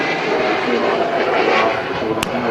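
A Lufthansa Airbus A320neo departs Manchester Airport for Munich, its loud, steady engine roar filling the clip with a brief sharp click near the end.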